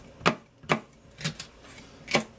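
Vegetables rough-cut with a sharp knife on a board for slow cooker pork tacos, four or five separate crisp chops spaced irregularly, close and fairly quiet with no talk.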